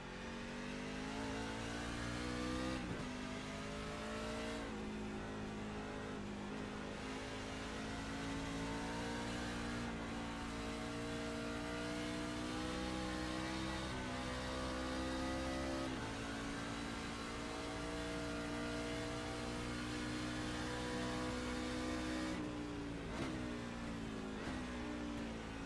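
A street stock race car in the NR2003 sim racing game screams at high revs through a qualifying lap, its engine note rising and dropping with each gear shift and corner, loud and continuous.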